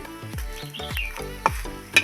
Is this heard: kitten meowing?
no